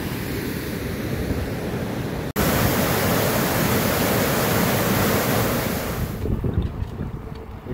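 Heavy wind roars across the microphone on a freezing cycling trip along the Loire, a loud unbroken blast of buffeting noise with one brief dropout partway through.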